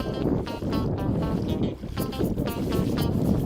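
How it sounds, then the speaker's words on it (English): Close, continuous sloshing and swishing of water as a kayak is pulled through ankle-deep shallows on the Yegua, with rhythmic splashes and gusts of wind buffeting the microphone. "It's way easier to pull this boat than to try to paddle through this shallow water."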